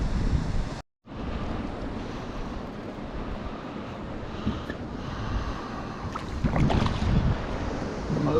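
River rapids rushing and foaming near a waterfall on a rainy day, a broad continuous roar of churning water with wind buffeting the microphone, a brief dropout early on and a louder swell near the end.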